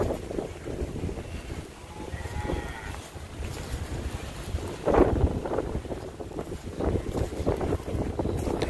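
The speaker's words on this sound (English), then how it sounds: "Sorry about the wind, but this is a calm area." Wind buffets the microphone outdoors in a partly tree-sheltered area with fallen trees, a steady rumbling roar with a stronger gust near the middle and no talking.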